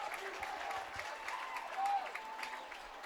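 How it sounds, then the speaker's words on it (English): Home-side crowd at a high school football stadium cheering and applauding after a defensive stand in the red zone, a steady distant wash of clapping and voices with a brief swell. "the hometown crowd on our side of the stadium letting their Abes know that they had a great defensive stand there in the red zone"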